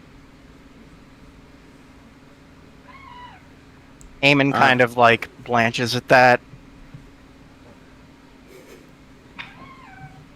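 A house cat meows softly a couple of times, once before and once after a short burst of people talking, over a steady low background hum.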